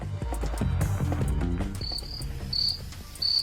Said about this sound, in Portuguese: Põe o grilo.